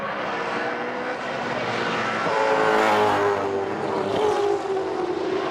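V8 Supercars race cars at Pukekohe Raceway roaring down the front straight, a loud, continuous engine howl that swells and sweeps past at high speed.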